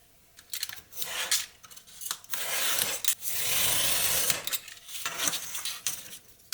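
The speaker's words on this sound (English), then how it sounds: "And I will cut all 4 of these sections." Sections for a DIY paint station are cut one after another, with close rasping, scissor-like cuts in a run of short strokes and a longer continuous stretch in the middle.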